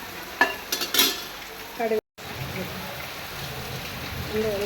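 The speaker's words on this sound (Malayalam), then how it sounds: "കടുക് പൊട്ടട്ടെ നല്ലപോലെ കടുക് പൊട്ടണം" Mustard seeds crackle and pop in hot oil over a steady sizzle for a jackfruit seed and spinach stem curry, with scattered sharp pops and a brief clatter of stirring.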